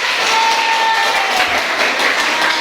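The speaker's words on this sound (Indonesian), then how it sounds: "Oke, tepuk tangan buat kita." Classroom group applauding together during a student teaching session, a steady, even wash of clapping from many hands close by, with a faint whistle-like tone briefly over it.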